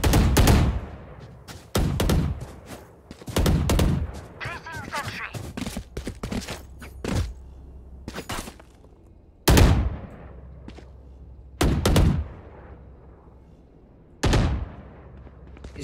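Valorant gunfire during a competitive match, with repeated sharp bursts and single shots from several weapons trading fire, loud and close, separated by brief quieter gaps.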